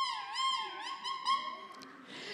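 A single-reed clarinet mouthpiece played on its own, giving bright, nasal, squawking tones with wavering pitch, several short honks over about two seconds, fairly close and alone.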